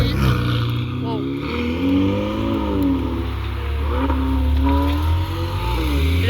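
Ferrari 488 Pista sports car pulls away at a cars and coffee meet, its engine revving and rising in pitch several times, loud and fairly close, with people talking over it.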